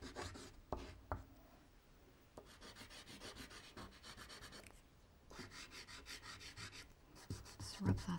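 Colour is rubbed into a mixed media animal artwork with a steady, raspy scrubbing of pigment against the surface, close and quiet, in short strokes with a pause partway through.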